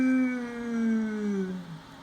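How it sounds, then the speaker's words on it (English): A single cow moos in one long, close, drawn-out call that slides gently downward in pitch and fades at the end, with no talk over it. "It's a cow."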